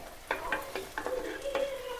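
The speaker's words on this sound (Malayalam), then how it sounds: "നമ്മുടെ ഉള്ളിയൊക്കെ നന്നായിട്ട് വരണ്ട് വരണം." Onions frying in a pan, a soft sizzle under repeated scraping strokes of a spoon every quarter second or so, fairly quiet and close.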